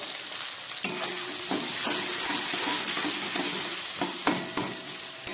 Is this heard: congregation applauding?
no